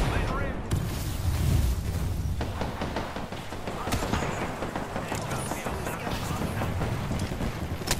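Grenade blasts and heavy gunfire from a squad battle in the video game Apex Legends, a dense, continuous roar of explosions and shots with booming low rumble, while a player talks over it.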